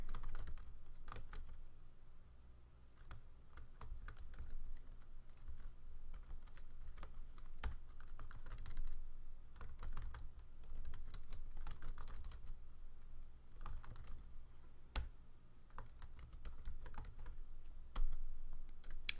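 Continuous typing on a computer keyboard, close and clear, with irregular bursts of key clicks and short pauses throughout.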